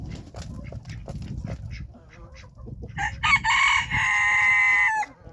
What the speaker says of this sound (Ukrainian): Де той огромний півник, що співав?